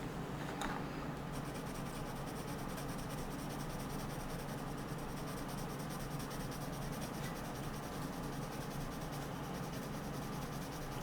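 An orange colored pencil shades lightly on paper with a steady, soft, continuous scratching that holds even throughout, close up and alone.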